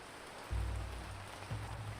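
Soft, steady rain in the ancient city-building game Ancient Cities, a faint continuous patter with a low rumble swelling twice, no voices over it.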